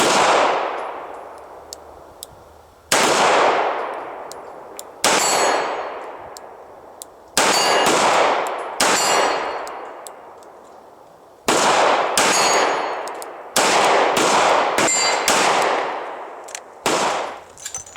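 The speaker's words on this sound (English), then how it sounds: "now double action, 38 special, 25 yard gong." Seven sharp revolver shots from a Smith & Wesson 686 firing .38 Special double action at a steel gong 25 yards away, each crack followed by a ringing metallic clang that decays, spaced irregularly over the stretch.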